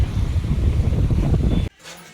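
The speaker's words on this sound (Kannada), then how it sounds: "ಎಲ್ಲ ಗಾಳಿ ಆವಾಜ ಕೇಳತೈತೇನು." Strong wind gusts near a full lake, roaring as a loud, low buffeting rush against the microphone that cuts off suddenly, leaving a quieter ambience.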